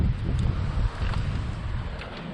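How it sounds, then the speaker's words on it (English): Wind blows outdoors on a gusty day near a garage, a low rumbling buffet of air with the muffled roar of wind across the microphone, steady with slight surges. "Pretty windy day outside."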